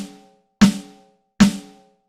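Steel snare drum sound from a Roland TD-07KV electronic kit played on the pad head, two sharp, close strikes with short ringing decay and a clear pause between them.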